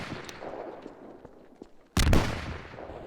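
AK rifle fire in a video game: scattered faint shots, then one loud, abrupt burst of gunfire that rings out and decays, with no voices over it.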